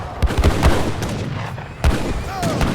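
Cannons firing during an Age of Empires III tournament match, with several sharp booming shots at the start and another near the middle, all over a dense, continuous battle din.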